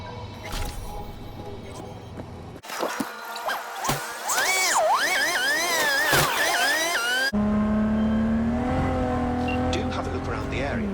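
A car driving in the video game Cyberpunk 2077, with engine revving that rises and falls in pitch, bursts of tire noise and a steady motor drone, fairly loud and continuous.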